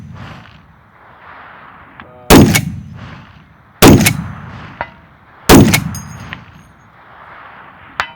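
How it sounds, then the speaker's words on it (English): Three loud, sharp reports from a .50 BMG rifle fired at a target about 700 yards away, evenly spaced over several seconds, each cracking hard and ringing out briefly, with quiet outdoor background between shots. "we're going to be shooting at about 700 yards, which is really not that much for the 50"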